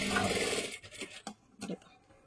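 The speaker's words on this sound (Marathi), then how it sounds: "इथे एकदम अशी 5 नंबरची शिलाई मारून घ्या अशा पद्धतीने" A sewing machine stitching a katori blouse, a short close whirring run at the start followed by a few brief clicks and bursts, with a voice speaking over it.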